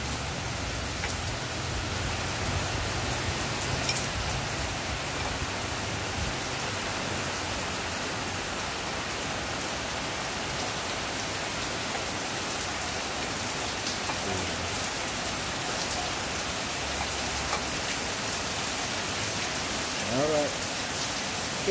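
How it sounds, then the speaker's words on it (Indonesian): Heavy rain pours down in a steady, even hiss that fills the whole stretch without pause. It is heard during a home repair job on a Mercedes W210 thermostat, and no one speaks. "Wow, hujan lebat."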